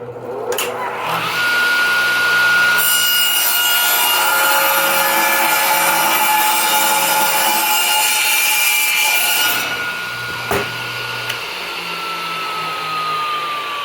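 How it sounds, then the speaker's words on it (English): A saw cutting a piece of wood along a marked line gives a loud, steady whining rasp that lasts several seconds before winding down, followed by a couple of light knocks. "I'm just going to bring it over to the saw here and, cut the line."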